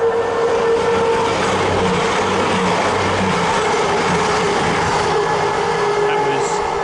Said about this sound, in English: Got an East Midlands service passing through, heading to London St Pancras.